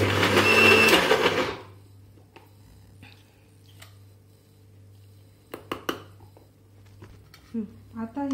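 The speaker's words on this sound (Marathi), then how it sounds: "हे मिश्रण थोडे जाडच दळावे" Mixer grinder coarsely grinding a spice mixture for Khandeshi funke, a loud whirring burst lasting about a second before cutting off, followed by faint low hum and scattered small clatters.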